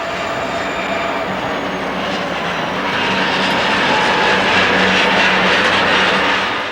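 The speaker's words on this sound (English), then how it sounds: "WP GP40-2 number 3558 is seen switching the yard in Salem." Western Pacific GP40-2 diesel locomotive number 3558 switching cars in the Salem yard, a steady rumbling engine drone that swells gradually louder and holds at close range, with no voices.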